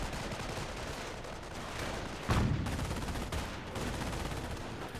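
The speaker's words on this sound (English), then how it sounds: "The mortar half track will more likely get gunned down here." Sustained gunfire rattles against a mortar half track in the video game Company of Heroes, a steady, loud clatter of rapid shots with a sharper burst in the middle.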